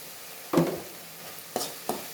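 Tomato curry with chili powder, plantain and paneer is stirred in a pan: a faint sizzle runs underneath, and a louder scrape of the spoon is followed by two shorter stirring knocks.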